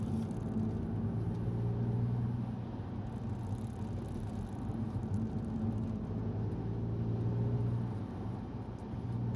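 Alfa Romeo Brera 3.2 cruising on a road at the speed limit, a steady low engine hum and tyre rumble heard from inside the cabin, even and unbroken.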